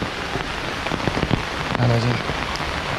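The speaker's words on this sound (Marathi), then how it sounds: "मित्रांनो पाऊस पण भरपूर आहे" Steady rain patters down on a hard surface, a dense continuous hiss with scattered drops and a brief low hum partway through.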